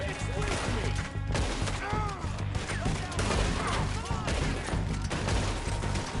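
Rapid volleys of gunfire from Red Dead Redemption 2 crackle almost without pause, layered over dense game music and effects, with a voice speaking partway through.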